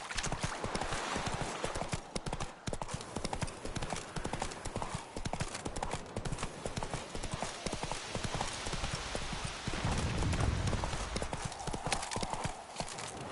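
Roach the horse gallops in a steady, fast hoofbeat rhythm that is loud and close throughout, set against a busy game soundscape. Brief voices come and go.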